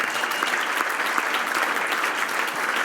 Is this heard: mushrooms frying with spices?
no